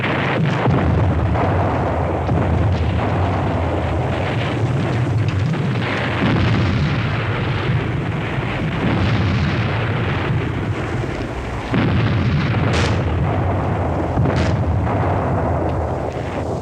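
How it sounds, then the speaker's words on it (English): Artillery barrage in a World War II war film set around Manila: repeated heavy booms and blasts rolling one after another over dense rumbling battle noise, loud and sustained with no speech. "They started firing on their own positions."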